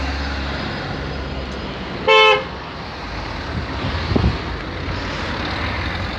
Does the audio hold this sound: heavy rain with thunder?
no